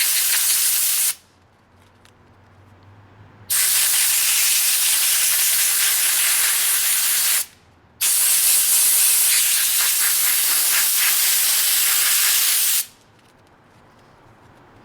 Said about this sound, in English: You're going to use compressed air.